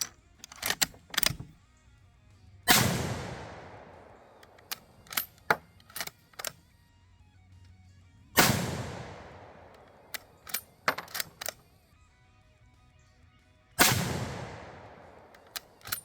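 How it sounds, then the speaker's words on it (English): Three loud rifle gunshots ring out at regular intervals from a comparable rifle being test fired, each with a long decaying echo, separated by clicks and rattles of the action. "I did test fire a couple comparable rifles to give us something to compare against"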